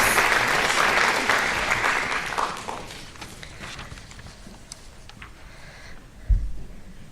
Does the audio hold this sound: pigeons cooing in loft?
no